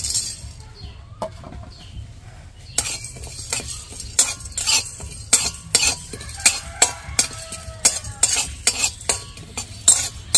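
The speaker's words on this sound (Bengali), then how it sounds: "এগুলোকে আমি শুকনো খোলায় প্রথমে একটু নেড়ে নেব।" Whole fennel seeds, small cardamom pods and cloves are stirred in a dry pan, giving a series of sharp scraping and rattling strokes that quicken and grow louder toward the end, over a low steady hum and without any talking.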